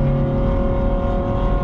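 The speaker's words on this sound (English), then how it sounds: "That car is loud for no reason." A loud car passing close by on a street, a steady deep engine drone with strong low rumble holding through the short moment, no talking over it.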